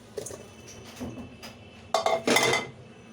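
Boiled potatoes are mashed in a pot with a utensil, giving scattered soft knocks and then a few louder metallic scrapes and clinks near the end.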